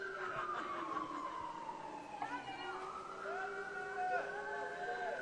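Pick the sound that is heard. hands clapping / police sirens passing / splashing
police sirens passing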